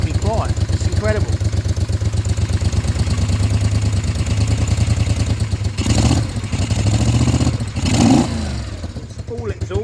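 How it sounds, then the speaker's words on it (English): A Moto Guzzi V50 Monza engine idles with a steady, burbling exhaust note, blipping louder twice near the end, while a voice talks over it. "It's all exhaust. All exhaust. The motor is so quiet."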